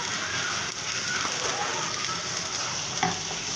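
Turmeric and chilli fry with bay leaves in a hot pan, making a dense, continuous sizzle. Faint stirring scrapes and small pops come through the frying, which stays steady and close throughout.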